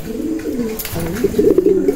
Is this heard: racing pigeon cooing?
yes